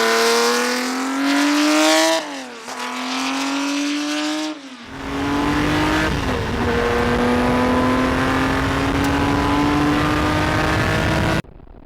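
A 1967 Ferrari 330 P4 race car, its engine screaming loudly up through the gears with sharp rising pitch sweeps, brief lifts between shifts, then a long sustained high-revving pull before cutting off abruptly.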